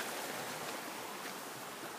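A waterfall at a resort pours down in two tiers, a steady broadband rush of flowing water that stays even and fairly loud throughout, with no voices.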